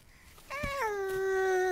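A voice imitates a cat's meow, a single drawn-out, rising-then-falling mew that holds steady and close for over a second after a brief quiet start.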